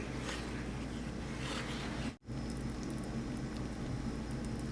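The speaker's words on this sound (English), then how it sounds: "All right, so this is up to a simmer" Gravy for smothered pork chops simmers in a pan, a steady soft bubbling hiss that runs continuously, interrupted by one brief dropout midway.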